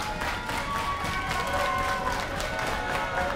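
A wrestling event crowd keeps up a steady wash of cheering and clapping in an arena, sustained and moderately loud without pause.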